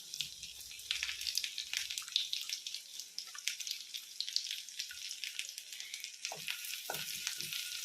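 Garlic fries in melted butter in a pan, giving a bright, steady crackling sizzle close up, with a few faint stirring knocks toward the end.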